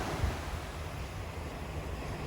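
Waves wash onto Batu Ferringhi beach on Penang Island as a steady, full surf roar, with wind buffeting mixed in throughout.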